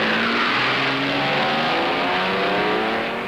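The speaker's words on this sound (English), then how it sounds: "and Gurney goes out the leader" Race car leaving the pits during the 1965 12 Hours of Sebring endurance race, its engine roaring loudly and continuously as it accelerates away, with a rising, steady drone throughout.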